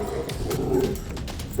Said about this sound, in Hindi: नजदीक मत जाइए सर, आपको भी देखकर ये भौंक रहा है।